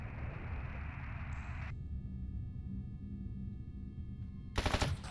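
Rapid automatic gunfire in the shooter game Stalker Anomaly, a dense burst of shots with a hissing noise up front, then a quieter stretch and a sharp loud final volley near the end, with no talking.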